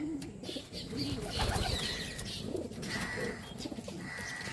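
Pigeons coo softly and repeatedly inside a breeding loft. Several birds overlap in low, throaty calls, with faint flutters and shuffling throughout.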